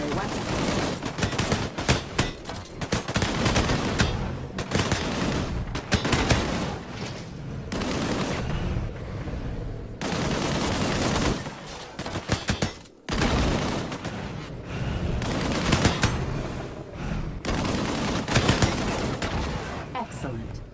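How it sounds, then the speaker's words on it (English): Rapid, dense video game gunfire from a primary weapon crackles almost continuously in loud bursts, with brief gaps, while a voice speaks over the action. "Engage the enemies ahead using your primary weapon."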